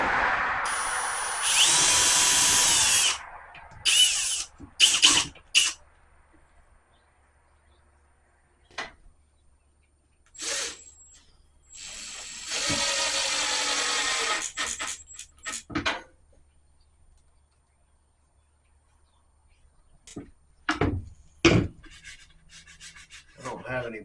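Power drill driving screws into wood while building a Christmas manger, loud bursts of whirring lasting a second or two separated by pauses, with a few clicks and knocks of handling between runs.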